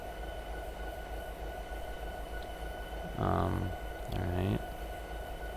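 A locomotive in Train Simulator 2022 rolls through a track switch, giving two short bursts of rumbling wheel clatter over a low steady engine hum, with a brief spoken word.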